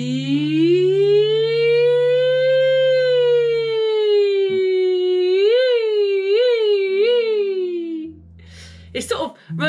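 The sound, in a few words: voice imitating a siren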